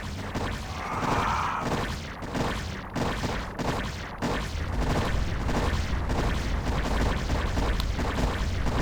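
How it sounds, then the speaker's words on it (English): Zerg Hydralisks attack in StarCraft, a dense, rapid barrage of wet, thudding impacts and crunching bursts repeating in a quick rhythm, loud and continuous. "Lovely sound those Hydralisks make."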